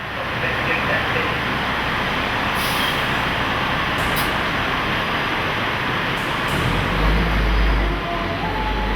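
A fire truck responding to a box alarm in Washington, DC rumbles steadily with loud engine and road noise, brief hissing bursts near the start and middle, and a deep low thump swelling toward the end.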